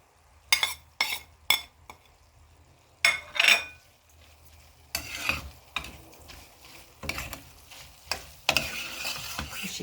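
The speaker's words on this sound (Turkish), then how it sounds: "Kıymam iyice kavrulduktan sonra baharatlarımı da bu şekilde" Minced meat fries with spices in a pan while a utensil stirs and scrapes, making intermittent sharp clinks and scrapes against the metal over a low, steady sizzle.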